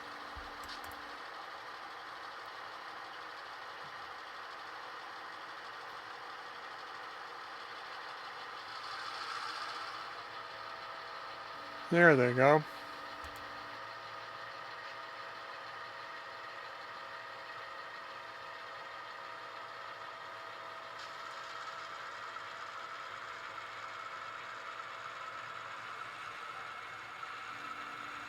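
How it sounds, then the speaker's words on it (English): HO scale model locomotive with a DCC sound unit, a low engine hum spooling up quietly and steadily across the clip, with a brief horn-like blast in the middle and a short spoken remark. "the added realism of the spooling up sound in the locomotives with these new DCC sound units"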